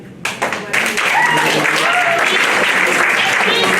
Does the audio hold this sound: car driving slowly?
no